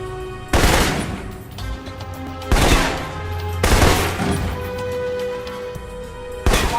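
Assault rifle fire in the Alpha Protocol video game comes in four short, loud bursts spaced a second or so apart, each a sharp crack followed by brief reverberant decay, with no talk.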